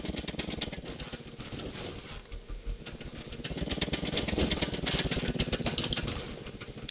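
Vehicle engine in the Scrap Mechanic game running steadily, a dense buzzing, rattling drone with rapid regular pulses that grows somewhat louder midway, close and continuous with no talk.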